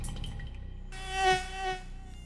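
Mosquitoes buzzing, a steady high whine that swells in loudness as the insects pass close, heard alone over a faint background.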